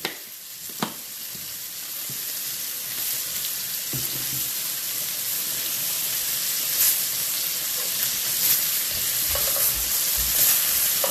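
Steak sizzles steadily in a hot pan, a continuous bright frying hiss with occasional spatters and soft clinks of utensils, loud and close with no talking.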